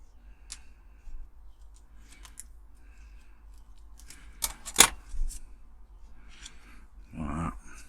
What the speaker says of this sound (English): If I can get the bloody scissors in, there we go.